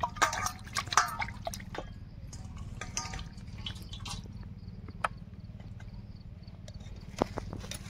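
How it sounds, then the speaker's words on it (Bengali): Raw chicken being washed by hand in water in a rural kitchen, with irregular splashes, drips and wet knocks, busier at first and then sparser, over a steady low hum. "চিকেনটাকে সুন্দরভাবে ধুয়ে নেব।"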